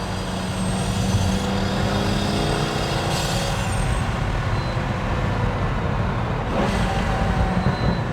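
Pagani Huayra carbon-fibre supercar heard from inside the cabin: a steady, loud engine drone and road rumble fill the whole stretch, with a couple of brief higher hissing bursts like turbo whoosh or blow-off.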